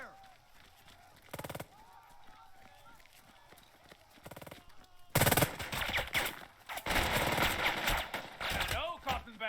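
Gunfire crackles in the tactical war game Burden of Command, with short bursts of shots early on, then dense, loud sustained firing and rattling in the latter half, and voices speaking underneath.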